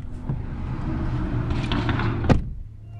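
A single solid rear door of a 2019 Mazda3 Fastback thunks shut near the end, a fairly light slam over a low, steady background hum.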